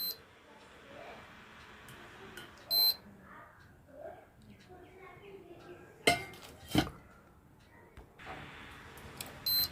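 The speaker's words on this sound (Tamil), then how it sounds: "இப்போ பாத்திரத்தை நம்ம மேலே வச்சுக்கலாம்" Several sharp metallic clanks as a metal pot is set down on a hard induction stove that fails to heat, with quiet room noise and faint beeps in between.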